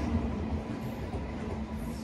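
The Mayurakshi Express rumbles into a station as a low, steady railway drone that stays moderate in level for a brief moment, with no voices.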